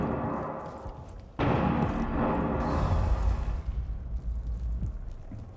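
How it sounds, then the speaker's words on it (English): A grenade blast in a shooter video game, a sudden loud broadband boom that rumbles on for a couple of seconds, then fades into game background noise. "Grenade."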